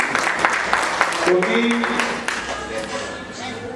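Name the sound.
audience applause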